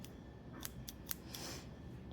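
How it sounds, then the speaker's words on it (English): Scissors snip yarn in a few sharp, crisp cuts spaced irregularly over a steady low background hiss, close and fairly quiet. "You're going to need your scissors."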